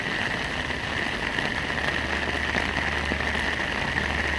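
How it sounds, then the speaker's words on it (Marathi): Heavy monsoon rain pours steadily in Nashik, a dense, unbroken hiss of drops on surfaces with a faint low hum underneath. "खूपच जोरदार मुसळधार असा पाऊस आहे"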